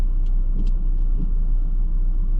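A turbocharged Hyundai i30N engine rumbles steadily up close, with a few faint, airy suction whooshes from the intake riding over the low drone.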